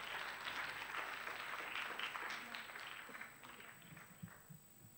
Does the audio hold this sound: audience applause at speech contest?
yes